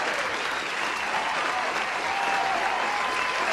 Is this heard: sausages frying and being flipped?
no